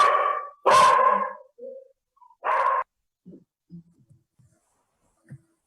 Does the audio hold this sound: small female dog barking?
yes